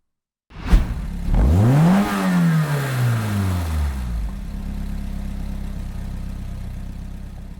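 A Peugeot 205 GTI hot hatch starts in the Gran Turismo racing game, its engine revving up sharply once and falling back to a steady, loud idle that holds to the end.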